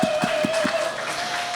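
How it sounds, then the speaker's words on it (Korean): Congregation at a church youth Sunday service applauds students receiving evangelism awards, a short burst of moderately loud clapping with a few distinct claps standing out, accompanied by a sustained tone in the background. "뜨거운 박수로 축하합시다"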